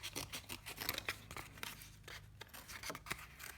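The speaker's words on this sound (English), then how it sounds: "I'm gonna cut all the way down the curve of his long back, but my scissors are starting to get stuck." Scissors snipping through cardboard while cutting a curved dinosaur-back shape for a sculpture, quiet repeated crisp cuts in an uneven rhythm, close and alone.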